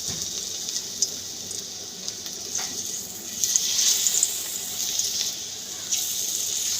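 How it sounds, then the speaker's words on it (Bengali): Egg and onion pakoras fry in hot oil in a kadai, giving a steady close hiss of bubbling oil with occasional brief pops and crackles that swell slightly toward the middle. "এবার আস্তে আস্তে করে ছেড়ে দেবো পেঁয়াজিগুলো।"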